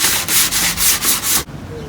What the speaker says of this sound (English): just going to give it a quick light sanding